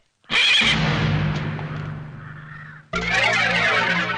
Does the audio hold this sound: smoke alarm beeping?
no